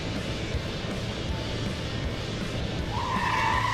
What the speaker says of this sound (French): Quand on roule à 200 km/h, tout freinage est un freinage d'urgence.